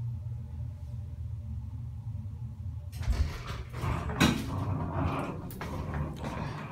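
Low rumble of a Kone elevator car at rest, then louder movement noise with clunks and rattles as it starts going up, heard from inside the cab.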